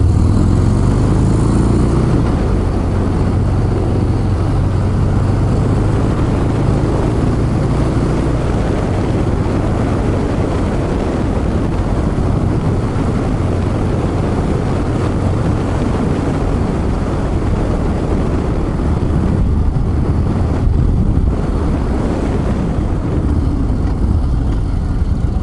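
A 2018 Harley-Davidson Fat Bob ridden through Avenue of the Giants in Northern California, its engine a loud continuous drone buried in heavy wind rush that never lets up.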